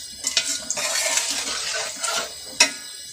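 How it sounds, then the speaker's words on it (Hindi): Ground spices and beef being roasted for korma in a pot, with a spoon scraping and stirring against metal, a soft ongoing sizzle and a sharp clink near the end. "अब इसको अच्छी तरह भून लेंगे हम।"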